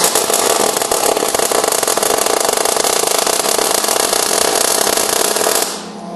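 An Eastwood MIG welder run by a beginner on 1/4 inch steel gives a loud, continuous crackling hiss dense with pops and spattering sparks, going on for about six seconds and then cutting off.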